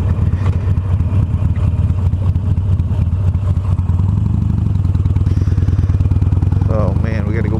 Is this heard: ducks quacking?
no